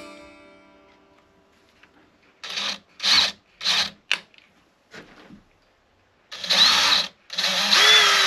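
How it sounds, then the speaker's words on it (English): A power drill whirs in several short bursts with pauses between, growing longer toward the end, up close and fairly loud, drilling bridge pin holes in a parlor guitar. "The trick when drilling these pins is to keep this as vertical as you possibly can"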